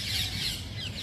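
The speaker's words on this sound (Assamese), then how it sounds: "চৰাইৰ শব্দ" Bird calls in a quiet green outdoor spot in Delhi on a rainy day: bright, close squawking chirps that stay steady for about a second, with no talk over them.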